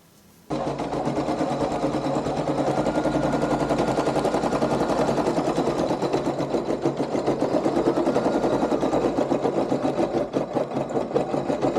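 An embroidery-capable sewing machine runs steadily and loudly for about eleven seconds after a brief quiet start, its rapid needle stitching forming a dense, even mechanical chatter with no voices.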